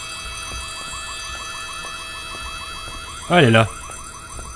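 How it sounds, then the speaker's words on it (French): A continuous electronic alarm rings through a dark Korean horror video game set in a school, steady and even, while a voice briefly speaks over it. "Oh, éteins cette alarme"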